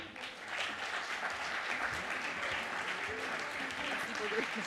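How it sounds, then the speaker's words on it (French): An audience at a talk on deep-sea research applauds two speakers, steady dense clapping that rises after a brief start and holds at a moderate, somewhat distant level, with faint voices beneath. "Applaudissements pour eux, s'il vous plaît."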